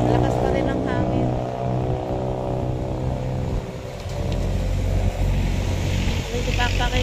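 Strong typhoon wind roars loud and steady in a continuous low rumble with a droning hum, while a person talks over it.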